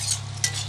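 Fresh local coriander is stirred into vegetables cooking in a pan, giving a short, soft scrape and rustle over a low steady hum, with a faint sizzle and a slightly sharper clink partway through.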